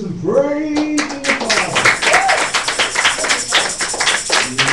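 A crowd applauds and cheers loudly and continuously, with shouting voices rising over the steady clapping throughout.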